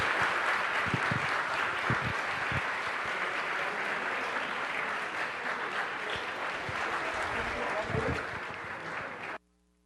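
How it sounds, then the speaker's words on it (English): A round of applause fills a city council special meeting, steady dense clapping from the audience holding for nearly ten seconds before cutting off abruptly, with faint voices mixed in. "Let's give them a round of applause."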